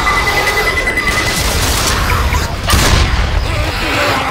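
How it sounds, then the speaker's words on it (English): A pipe bomb goes off loud and close in Left 4 Dead 2 on expert difficulty, a dense booming blast amid chaotic gunfire and crashing noise. "Throwing a pipe bomb!"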